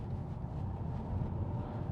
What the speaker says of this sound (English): The 5-cylinder Volvo engine always sounds like a truck to me